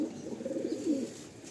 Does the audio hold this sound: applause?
no